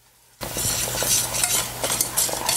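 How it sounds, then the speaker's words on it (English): A spoon steadily stirs a lemon sauce in a pot heating toward a boil, scraping and swishing continuously with a light sizzle underneath, close and alone after a brief quiet start. "You want to stir this constantly while you're bringing it up to a boil."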